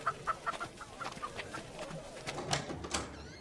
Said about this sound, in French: Elle va nous manquer, ta poule.